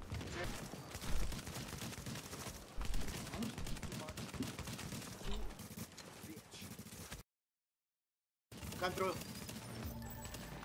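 Rapid gunfire bursts from The Division video game crackle under excited players shouting over voice chat, with repeated shots throughout and a short silent gap near the end.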